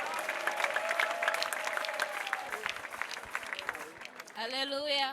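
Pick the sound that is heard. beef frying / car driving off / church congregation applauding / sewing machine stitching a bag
church congregation applauding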